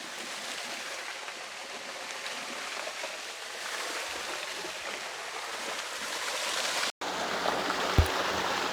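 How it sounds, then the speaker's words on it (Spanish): Waterfall beside the start of an irrigation water pipe at a hacienda in Michoacán, a broad steady rushing hiss of falling water, constant and fairly close, with a brief dropout near the end. "estamos viendo aquí atrás de mí una cascada también"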